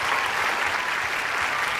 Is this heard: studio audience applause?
yes